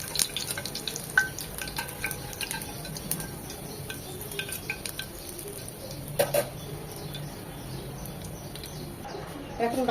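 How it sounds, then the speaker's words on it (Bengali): Kalui saag fritters with chopped garlic crackle and sizzle in oil as they are flipped, pressed and stirred, with scraping clicks against the pan over the continuous frying and a bird chirping faintly in the background. "উল্টিয়ে পাল্টিয়ে একদম মচমচ করে লাল লাল করে ভেজে নেব"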